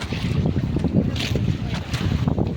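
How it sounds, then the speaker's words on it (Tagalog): A paraw, a traditional outrigger sailboat, glides without an engine, with steady wind buffeting the microphone and waves splashing and lapping against the hull up close. "wala kang maririnig na makina wala kang maririnig na ano magingay pagaspas lang ng alon sa kahangin"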